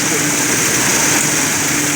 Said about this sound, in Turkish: Orada da bir tane traktör arkadaşımız ekin alanı otunu biçiyor.